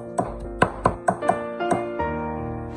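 Pickled cabbage being chopped finely with a knife on a cutting board: about six crisp, evenly spaced thuds, close and clear, then a softer trailing scrape.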